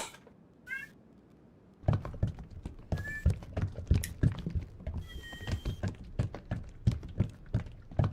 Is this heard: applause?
no